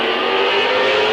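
Race cars roar down the backstretch at Midvale Speedway in a 1998 oval race, a loud, sustained engine drone close by and filling the whole moment without a break.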